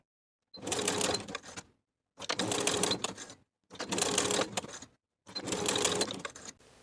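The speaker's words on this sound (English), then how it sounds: "along each of those short edges, we're going to sew basting stitches, leaving tail ends so that we can pull for gathering" A sewing machine runs four separate bursts of basting stitches along the short edges of side tie pieces for a woven romper. Each steady whirring run lasts about a second, with brief pauses between, close and clear with no talk.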